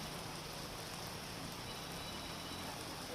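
Heavy rain pours down across Ahmedabad in a dense, even hiss of falling water that does not let up, heard alone without voices.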